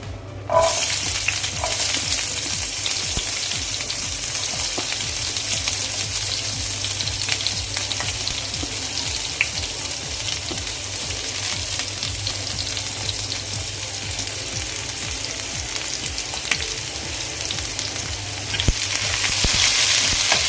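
Onion frying in hot oil with cumin seeds, a steady loud sizzle and hiss that runs unbroken for the whole stretch, with no voices over it.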